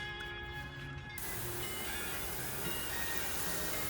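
Water misted from a sprayer set to mist onto a graphene-coated surface, a steady continuous hiss that swells and then holds evenly throughout, with no voices.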